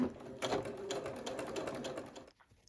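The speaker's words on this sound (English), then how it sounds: "do a little test just to check the tension is okay" A sewing machine stitches a short test line for tension, a fast, even run of close stitching that stops abruptly near the end, with no talking.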